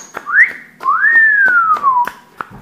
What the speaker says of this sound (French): un petit sifflement si vous savez siffler